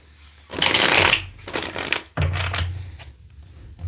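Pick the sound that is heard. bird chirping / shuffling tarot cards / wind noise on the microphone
shuffling tarot cards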